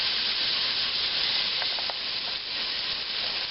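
Meat searing and browning in a hot pan over medium-high to high heat for Creole white beans, a loud continuous close sizzle with a few faint clinks, no voices.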